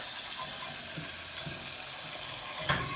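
In a pan, flour is whisked into a roux, giving a steady soft sizzle with faint scraping whisk strokes running underneath, close and quiet, with no voices.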